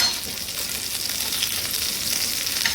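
Stuffed okra fries in a pan as it is flipped, giving a steady, close, even sizzle with a bright oily crackle throughout and no talking.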